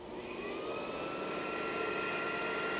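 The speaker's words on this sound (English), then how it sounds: "So right now the spindle speed is coming up." A Mitsui high-precision hand-feed surface grinder, made in Japan, spinning its spindle up toward 3,400 RPM, a steady high whine with rising tonal pitch over a constant motor hum, fairly quiet and without talk.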